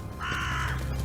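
A crow caws once, loud and near, in a single drawn-out harsh call that stands alone over faint background hum.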